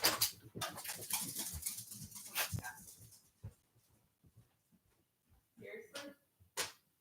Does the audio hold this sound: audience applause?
no